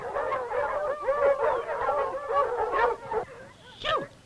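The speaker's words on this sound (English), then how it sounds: "Get these hound dogs out of here." Several hound dogs barking and howling together, a close, loud overlapping chorus of bays and wavering howls ending in a rising yelp, with no talk over it.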